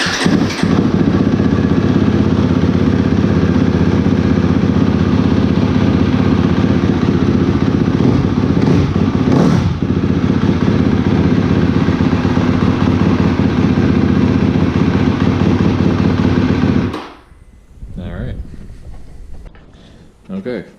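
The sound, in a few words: KTM motorcycle with full exhaust starting and idling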